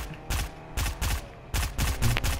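Bursts of automatic gunfire in Fortnite, fired at a supply drop, come in short rapid volleys separated by brief pauses, loud and close, with no talking.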